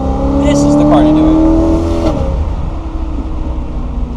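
A BMW E92 M3 with its V8 engine revs loudly up close, a sharp climbing roar that drops and settles into a rough idle.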